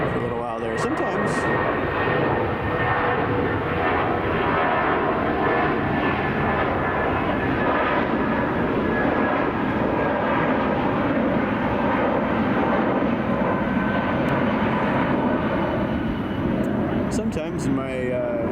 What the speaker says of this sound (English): Either that's a go around or he's just departing with the gear down